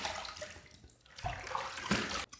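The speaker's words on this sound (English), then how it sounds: "Let's rinse." Running water from a tap rinses a Fatip Grande safety razor between shaving passes, a steady close splashing with brief pauses and knocks.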